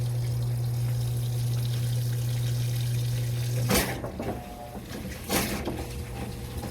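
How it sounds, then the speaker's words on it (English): A steady hum is followed by two bursts of rushing water, then a continuous stream of water flowing into the tub of a Whirlpool 4.7 cu ft top load washer with agitator, moderately loud and close. "now the water is running freely"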